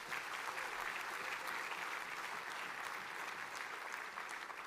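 A church congregation breaks into steady, dense applause during a Christmas service, a continuous wash of clapping that stays fairly distant and even from start to finish.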